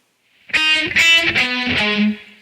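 A distorted electric guitar plays four sustained riff notes, each picked clearly and ringing loud and close with no talking.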